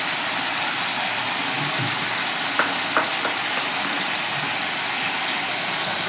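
Mustard and poppy seed paste with green chillies frying alongside boal fish in a pan, a loud continuous hissing sizzle that stays steady and close, with a few faint clicks of utensils and no talking.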